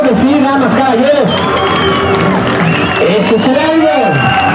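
Spectators at a car race between a Dodge Viper and a Tesla make a loud, continuous roar of cheering and shouting with some applause mixed in. It sounds close and dense, and there are whoops throughout.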